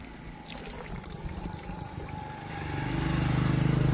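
Water runs along a small stream in a hillside village near Solan, Himachal Pradesh, a soft rushing trickle with light splashes that swells into a louder, fuller flow toward the end.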